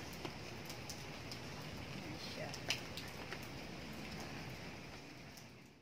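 Steady rain patters on a surface, faint and continuous, with a few sharper drips standing out.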